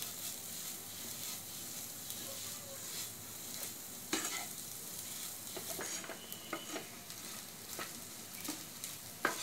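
Masala being stirred and mixed in a pan over a low flame for paneer vada pav filling, a soft steady sizzle with faint scraping stirs and occasional light clinks, fairly quiet throughout.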